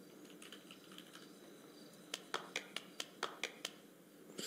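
Eight sharp claps in a quick, slightly uneven series, fairly close, over a quiet background with faint earlier murmuring.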